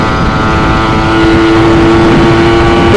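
A motorcycle engine fitted with a TM34 carburetor idles loudly and steadily up close, its throttle twisted gradually to lift the revs with a sustained mechanical drone and no talk.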